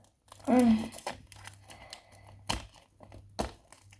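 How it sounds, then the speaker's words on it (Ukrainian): A paper-wrapped Kinder Surprise egg being opened by hand, with crinkling and tearing of the wrapper in short bursts, close up; a voice speaks briefly over the first rustles. "Такі кіндери так погано відкриваються."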